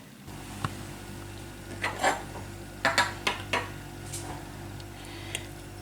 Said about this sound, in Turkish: Şimdi bunları yıkayacağım bir süzgeçten geçireceğim